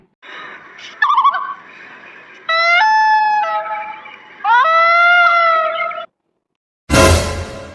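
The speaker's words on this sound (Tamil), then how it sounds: "இந்த காட்டுக்குள்ள வசிக்கக்கூடிய ஒரு பறவை தான் அது" A night bird in a forest calls out loudly in a series of rising, wavering hoots and cries, alone in a quiet setting, ending with a sudden burst of noise.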